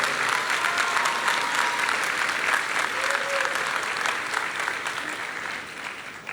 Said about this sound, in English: could you please, graduates, give a round of applause to the parents, families, and friends